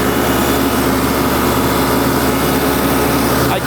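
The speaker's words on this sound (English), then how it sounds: "flip on my mower, rev my tractor up because this is more grassy" A loud, steady engine drone runs throughout with a constant mechanical hum, a tractor revving hard while a loader-mounted Laneshark Hammerhead mower spins, with no voices.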